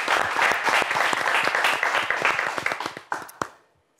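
Studio audience on a French TV game show applauds a losing team, a dense burst of many hands clapping close and loud that thins out and fades over the final half second.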